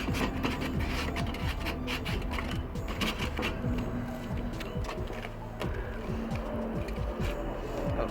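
An onion rubbed back and forth across a grill grate to scrape it clean makes a steady, rhythmic rasping scrape with quick repeated strokes, close and continuous.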